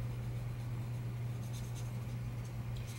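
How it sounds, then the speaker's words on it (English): An ice blue marker coloring in on paper for a card, a steady soft scratchy stroking heard close up over a constant low electrical hum, with no one talking. "let's go ahead and just color a couple of these really quickly"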